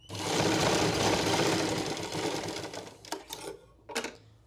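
Close and loud, a sewing machine runs continuously for about three seconds while attaching a sleeve to a blouse, then winds down into a few short stuttering stitches and clicks.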